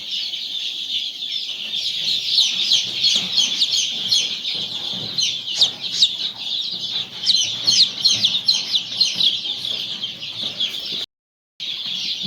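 Native village chickens cluck and chirp continuously close by, a busy flock of overlapping calls that keeps going, with a brief silent gap near the end.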